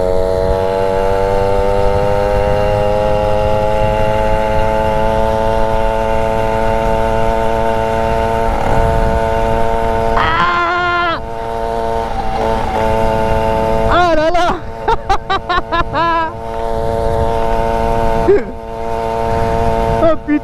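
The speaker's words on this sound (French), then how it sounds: "Oh le barouf qui fait le pot." MBK 51 moped engine held at full throttle through a loud exhaust, a steady high buzzing drone with strong harmonics and brief dips and stutters near the end, very close and dominant.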